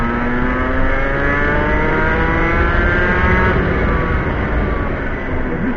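A two-stroke racing kart engine revs hard and steadily at close range, its high buzzing pitch rising and falling through gear-free acceleration with no pauses or talk.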